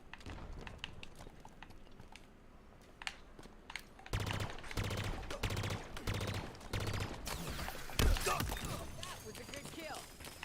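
Rapid bursts of automatic gunfire from a weapon in the Halo Infinite shooter game, loud and close, with tight repeated shots in clusters and sharper single cracks, over game sound and music.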